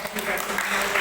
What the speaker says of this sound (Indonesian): Mau beri tepuk tangan dong buat Ibu